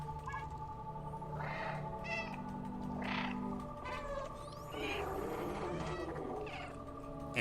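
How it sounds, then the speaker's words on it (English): Repeated meows from a cat character in the video game Stray, several short calls spaced across a steady game soundtrack with a low hum and background music. "you can meow during cutscenes, so I have nothing else to do, so I spam meow"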